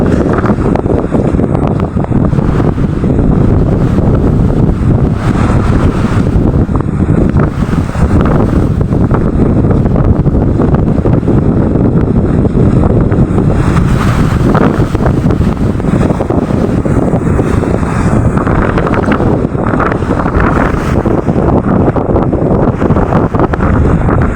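Strong wind roars steadily against the microphone while large sea waves surge and churn underneath, loud and continuous with no voices.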